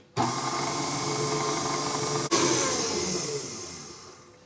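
An electric mixer whirs steadily while blending granulated sugar into a fruit pizza crust mixture, with a brief dip partway through before the motor resumes and gradually fades, and no talking.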